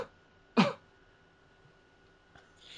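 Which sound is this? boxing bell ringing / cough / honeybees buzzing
cough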